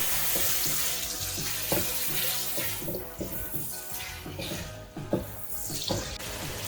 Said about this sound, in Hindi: 2-3 मिनट टमाटरों को भूनने के बाद अब हम इसमें हरी मिर्चें ऐड कर रहे हैं